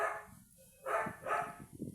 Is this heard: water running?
no